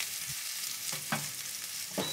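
Onion hits a hot pan with popping spice seeds and leaves for a coconut curry, setting off a steady sizzle broken by a few sharp stirring scrapes and clatters, with no voices.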